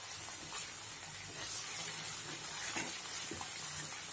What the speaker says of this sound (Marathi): आता अजून 1-2 मिनिटांसाठी आपण ते वाटण परतून घेऊ।